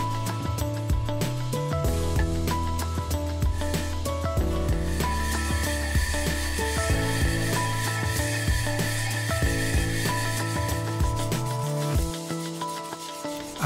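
A hand brush scrubbing black mill scale off a steel plate, a steady loud rasping rub that continues throughout in close, repeated strokes, with no talking.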